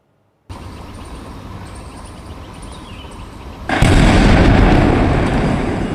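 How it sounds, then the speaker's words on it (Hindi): Steady background rumble, then a sudden loud bomb blast in a Delhi street erupts and leaves a sustained roaring wash of noise afterward. "तो ये वो धमाका था जिसके बाद कई किलोमीटर तक जिसकी आवाज़ सुनी गई"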